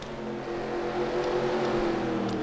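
Race cars in a video game racing at the Champs Elysees circuit, a continuous layered engine drone with shifting pitches at moderate level.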